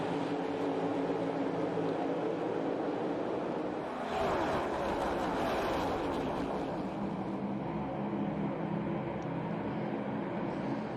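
NASCAR Cup cars racing at the Daytona 500 make a dense, continuous roar of engines. A swelling surge of cars passes close around the middle, then the noise settles back to a steady, heavy rumble of the pack.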